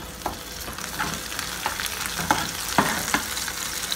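Browned onions sizzling in a pan with ginger and chili added for Punjabi chana dal with lauki, a steady soft frying hiss broken by light periodic scrapes of stirring, close and fairly quiet.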